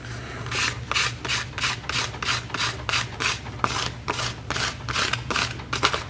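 Rhythmic sanding strokes of 1500 grit sandpaper rubbed across a leather floor mat with light pressure, about a dozen steady back-and-forth passes, close and clear with no talk.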